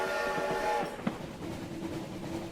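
A railroad train rumbles steadily near at hand, with a brief horn-like tone and a sharp clank partway through, carrying on as a continuous mechanical din with no voices.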